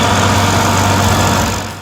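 The engine of an SC70TX stump grinder clearing storm-felled tree stumps runs in a loud, steady, close drone with a deep low hum, easing off slightly at the very end.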